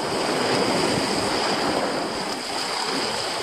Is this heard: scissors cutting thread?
no